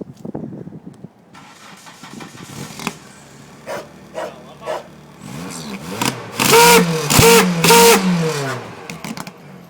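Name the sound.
car engine revving as gas is pressed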